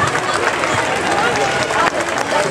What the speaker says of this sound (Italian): Un applauso per i nostri un applauso